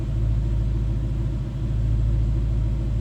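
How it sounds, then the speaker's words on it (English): A 2012 Ford Mustang GT Premium convertible idles from behind with a deep, throaty exhaust, a steady low rumble close by and unbroken, with no voices. "Nice deep throaty exhaust note."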